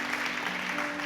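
Church congregation applauding during a Spanish-language sermon, a steady wash of clapping hands filling the room with no speech over it.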